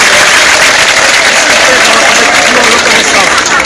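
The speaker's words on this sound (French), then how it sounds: "remercier vivement le docteur et professeur émérité Samba Ndiaye qui mérite applaudissements" Loud, dense applause from an audience at a ceremony reopening a renovated building, steady continuous clapping filling the whole stretch.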